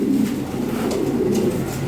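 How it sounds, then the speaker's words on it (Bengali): Big white Lakka pigeons cooing close up, a loud continuous low throaty cooing that rises and falls in soft pulses, with no talk. "ডিমে থেকে আনা হলো বিগ সাইজের, খুব ভালো কোয়ালিটি কবুতর।"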